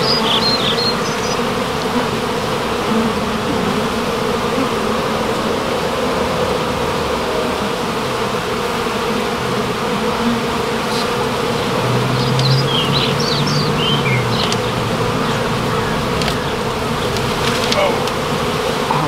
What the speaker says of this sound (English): I'm going to grab that and start shaking bees into our new box